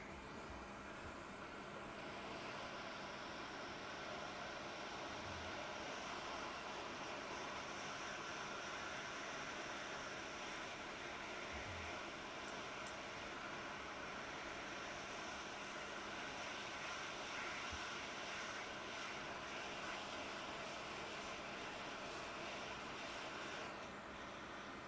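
A hot air rework station blows a steady, even hiss across a laptop circuit board during microsoldering repair, a continuous broadband rush with no speech over it.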